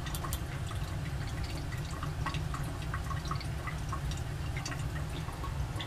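Condensate dripping back into a boiling still during distillation of an unknown alcohol, heard as scattered small drips and tinkles over a steady low bubbling rumble, close and continuous with no voices.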